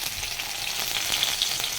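Whole garam masala spices with cumin and bay leaf crackle and fry in very hot oil, a steady dense sizzle with sharp spits popping through it, close and fairly loud, with no talking.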